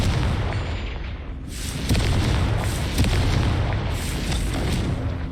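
Confringo fire spells from the Hogwarts Legacy video game burst in a string of loud, booming blasts with rumbling low-end roar, several overlapping explosions rolling one into the next across the clip.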